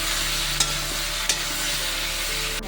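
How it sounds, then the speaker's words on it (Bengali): Crab and snake gourd curry with spices being stirred in a frying pan, a dense steady sizzle under a constant hum, with two or three light spatula clinks, close and free of speech. "ভালো করে নাড়িয়ে মশলাটা মিশিয়ে দিচ্ছি"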